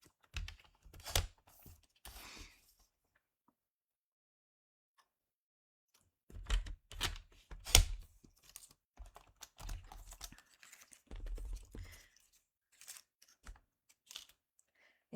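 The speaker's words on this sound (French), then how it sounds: "je vais venir couper entre les festons, là" Cardstock is cut between its scalloped edges, producing soft crisp snips and rustles in quiet clusters with silent gaps between them, close and faint.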